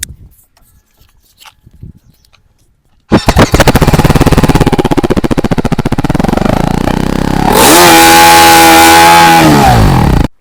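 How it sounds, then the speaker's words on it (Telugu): A TVS Apache RR310 motorcycle fires up after a quiet pause, then settles into a loud, close, steady exhaust thrum before the rider blips the throttle into a rising, sustained rev near the end. "ఇప్పుడు బండి స్టార్ట్ చేసిన తర్వాత ఎగ్జాస్ట్ నోట్ అంటాం కదా"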